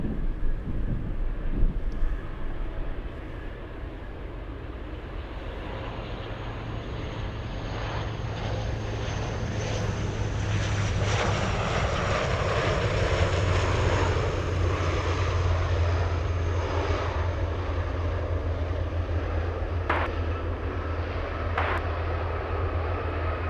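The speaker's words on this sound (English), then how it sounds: "let's go over to the Saab 2000. On final, it's over the numbers" A Saab 2000 turboprop airliner on final approach over the runway numbers in gusty wind at Anchorage airport, its steady engine drone rising and swelling amid blustery wind noise, with no talk.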